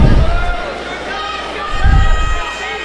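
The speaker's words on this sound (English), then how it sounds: "You can hear the crowd in the background as everybody's calling out for their favorites" Spectators at a high school wrestling match, Sitka versus West, shouting and cheering in a busy gym, with a dense crowd roar and thumping bursts at the start and near the middle.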